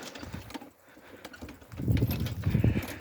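Horse hooves clop unevenly at a moderate distance in the village of Tryshchyna, Ukraine, growing louder and more frequent toward the end.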